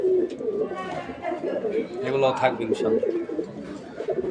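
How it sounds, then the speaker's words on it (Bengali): Pet pigeons, including sale birds and pigeons of several bloodlines, coo softly and repeatedly in a loft. Someone talks over the continuous cooing. "এইখানে দেখেন আমার কিছু পার্সোনাল কবুতর আছে"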